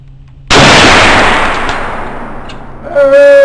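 A smokeless muzzleloader fires a 275-grain bullet in one loud, sharp, close report that decays over a couple of seconds, after which a steady ringing tone rises as the struck steel target sounds.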